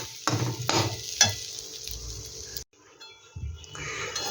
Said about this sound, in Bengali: চালটা কিন্তু একটু ভালো করে ভাজতে হবে